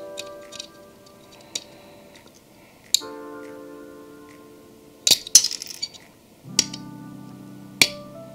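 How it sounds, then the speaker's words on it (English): Plastic Gundam model part being cut at the gate with single-blade nippers, giving a few sharp, separate clicks and snaps spaced over several seconds, close by and fairly quiet, with no talking. "when I use a single blade nippers as first cut, it doesn't move the part that much when you cut it at the gate"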